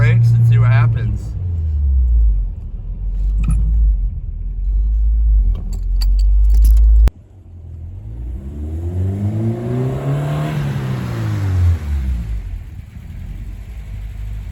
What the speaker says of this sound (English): I'm gonna do no hands, slam on the brakes and see what happens.